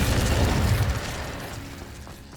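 The Incendio fire spell is cast in Hogwarts Legacy, a loud low whooshing burst of flame that rumbles and then fades over about two seconds, with no talking.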